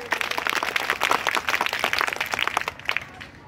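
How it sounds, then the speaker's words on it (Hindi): A crowd at a Bhagidari Party political gathering applauds, a dense burst of clapping that fades toward the end. "एक बार जोरदार ताली बजाइए।"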